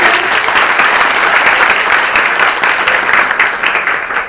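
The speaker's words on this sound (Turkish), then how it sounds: "Çocuklarımız için de büyük bir alkış alabilir miyiz?" A room of people at a Children's Rights Day school programme applaud loudly and steadily, dense clapping filling the whole stretch and easing slightly near the end.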